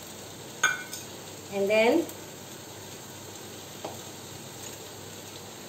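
Chili powder and garam masala are stirred into a sizzling kadai for a homemade Indian-style paneer pizza, giving a steady soft frying hiss with a few scraping stirs and a brief spoken voice.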